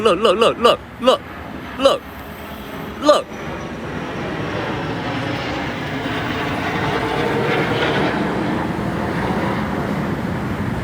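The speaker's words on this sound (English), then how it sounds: "A fighter jet just flew over my head." A fighter jet passes overhead outdoors as a loud, broad roar that swells and holds steady for most of the stretch, following a few sharp knocks and brief bursts of talk at the start.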